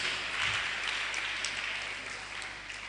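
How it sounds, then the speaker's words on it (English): An audience at a Day of the African Child roadshow applauds as Eliza comes on stage, a steady patter of clapping that slowly fades. "Please clap for Eliza"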